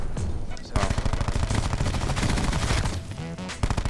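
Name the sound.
gunshots in a video game shooter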